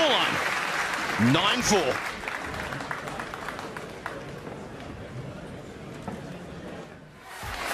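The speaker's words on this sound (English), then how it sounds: "A wonderful ovation from this capacity crowd as the players return." A capacity crowd at a snooker final breaks into sustained applause as the players return, a dense wash of clapping that is loud at first and slowly fades, with a voice speaking over it.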